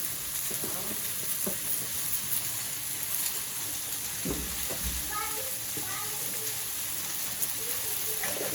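Spinach frying and being stirred in a pan, a steady close hiss with irregular scraping stirs and a brief faint voice partway through.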